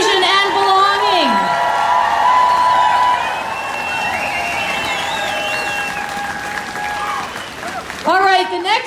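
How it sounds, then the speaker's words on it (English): Outdoor crowd at a women's march rally in Victoria, BC, cheering and applauding loudly throughout, with shouts and whoops rising at the start and again near the end. "So let's have a rousing cheer for diversity, inclusion, and belonging."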